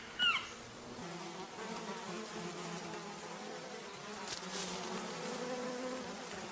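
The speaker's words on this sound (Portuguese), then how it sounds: "Muito fundo para esses pequenos braços e as abelhas não estão contentes" Bees swarm at a hive in the wild, a steady dense buzzing drone that holds throughout, with a brief sharper sound at the start and a faint rise near the end.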